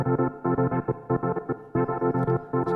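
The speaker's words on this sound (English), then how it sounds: "Touch of chorus, touch of reverb" A pulsing synth playing rhythmic chords with a lush chorus shimmer and light reverb tail, a short pause midway before the pattern resumes.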